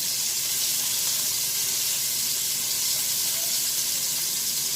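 Beef chuck roast searing in a hot Dutch oven, giving a steady, loud, even sizzle that holds without a break.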